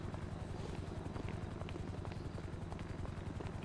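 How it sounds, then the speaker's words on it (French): A police helicopter in GTA 5 drones steadily overhead, its rotor chop a continuous low pulsing throb that stays loud and unbroken throughout. "C'est bien un hélico de police."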